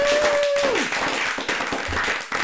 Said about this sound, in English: Everybody, give a round of applause for American Person!